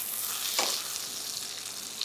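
Chicken breast sears in a pan over medium-high heat for a garlic lemon cream dish, giving a steady close sizzle with a brief louder flare partway through and no talking.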